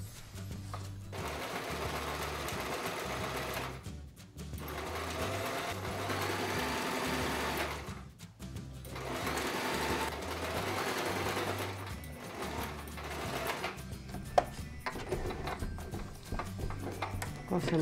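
A sewing machine stitching the waist ties of a fabric apron, steady whirring runs of rapid needle chatter broken by brief pauses, close and continuous, with a voice talking in places.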